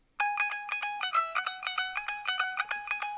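A high-pitched tumbi, the single-string Punjabi plucked lute, repeats a quick plucked pattern in a Punjabi-style beat, with bright twangy notes in a steady rhythm, close and loud with no other sound.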